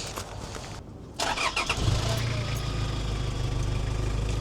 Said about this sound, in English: There's our old diesel shake right there, so seems to be working.